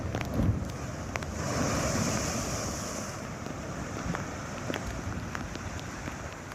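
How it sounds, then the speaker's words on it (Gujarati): Rough, high sea waves over ten feet tall surge against the Alang coast in monsoon weather, making a continuous broadband roar with wind buffeting the microphone and no voices. "દરિયામાં 10 ફૂટથી વધુ ઊંચા મોજા ઉછળતા જોવા મળ્યા"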